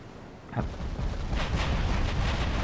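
Naval guns fire in a warship video game set around Japanese dreadnoughts: a sharp boom near the start, then heavy, rolling broadband gunfire and rumble that continue loud to the end, with no talk.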